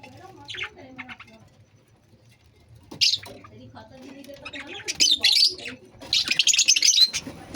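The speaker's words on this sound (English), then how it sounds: "And that is my lovebirds. Lovebirds. Different color of lovebirds." Pet lovebirds of different colors chirp in a cage, shrill bursts that grow busier toward the end, with other aviary birds nearby and a person talking over them.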